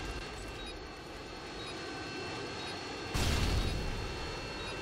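A Harrier jet killstreak in the video game Call of Duty MW2 roars overhead as a steady, loud jet drone, which swells suddenly near the end into a heavier blast of engine noise.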